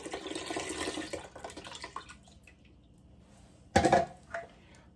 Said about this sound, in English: So what I normally do is that I just pour water in the can itself